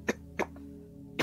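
A man in a Marathi TV serial scene coughs three times, each short, dry cough spaced apart, close and moderately loud over a quiet room tone.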